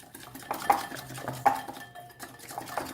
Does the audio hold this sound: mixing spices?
yes